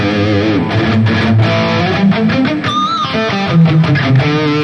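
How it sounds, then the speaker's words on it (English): An electric guitar plays a loud, distorted riff of chugging chords and short lead notes through a Friedman high-gain amp model on a Valeton GP-200 multi-effects unit, near and without talk. "We have another high gain here with the Friedman amp"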